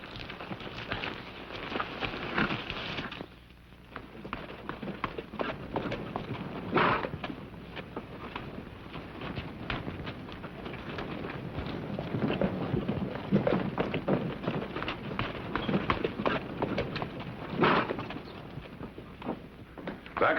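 Horses ride off in an old western, hooves clip-clopping in a dense, irregular stream of hoofbeats, fairly close and sustained, with rustling and wind-like noise beneath.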